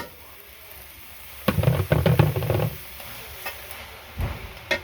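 Jute leaves frying in a pan sizzle softly while a spatula scrapes and stirs in a burst of rough, clattering strokes, followed by a quieter stretch and a few later stirs.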